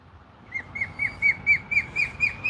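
A hawk in a tree gives a series of about eight thin, high, downslurred whistled calls in steady rhythm, clear and fairly near over faint outdoor background.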